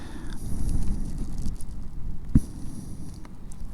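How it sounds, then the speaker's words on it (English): Heavy rain drums steadily in a dense, crackling patter with a low rushing roar underneath, close and continuous, with one sharper knock partway through. "The rain's absolutely hammering it down now as well"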